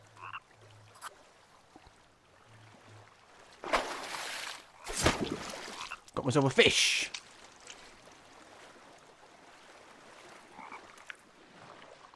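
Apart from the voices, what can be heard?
frog croaking in the video game The Forest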